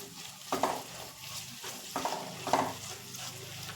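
Vegetables and green chillies cooking slowly over low heat in a pan for a leftover-roti chow mein, with a soft steady sizzle and a few scraping stirs.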